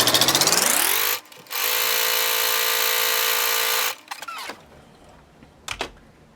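Sewing machine stitching a straight tuck along the fold of a length of fabric, a steady loud motor whir that runs for a second, pauses briefly, then runs about two and a half seconds more before stopping, followed by faint handling clicks.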